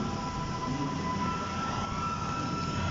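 A train rumbles steadily in a Roblox subway surfing game, a dense, even roar with a faint high whine, heard alone with no voices.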